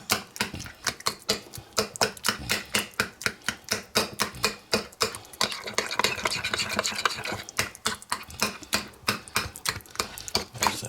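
Parmesan cream sauce mixed by hand in a bowl, a spoon scraping and clacking against the sides in a steady, rapid rhythm of sharp repeated strokes, close and clear with no talking.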